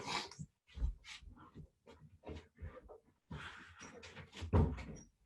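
Dogs bark in clustered bursts as a partner comes home, with door and cupboard clatter mixed in and brief pauses between volleys, fairly close indoors.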